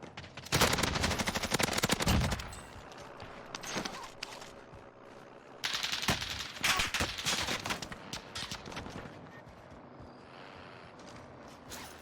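Bursts of rapid automatic gunfire aimed at a vehicle in the video game Warzone, loud and dense in two long volleys separated by quieter scattered shots and mechanical clatter.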